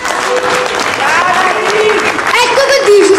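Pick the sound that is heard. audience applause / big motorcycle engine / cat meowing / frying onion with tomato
audience applause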